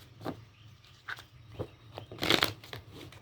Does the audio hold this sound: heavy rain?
no